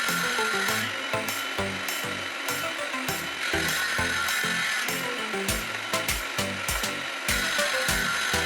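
A homemade table saw cuts 16 mm and 10 mm MDF pieces in a run of short, loud bursts, the blade whining and rasping through each board with brief gaps between cuts.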